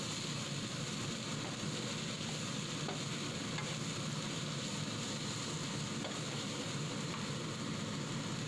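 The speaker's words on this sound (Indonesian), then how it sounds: "Kemudian tumis bawang bombay sampai nanti mengeluarkan bau wangi bawang ya" Onions sautéing in a pan give a steady, close sizzle with light stirring scrapes throughout, and no one speaks.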